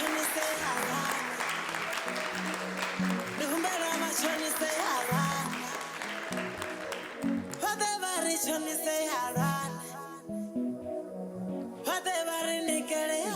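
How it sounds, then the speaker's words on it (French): Audience applause for the models and candidates at a fashion show competition gala, a sustained clapping texture running under loud music for about thirteen seconds, thinning briefly before swelling again. "Encore des applaudissements pour elles."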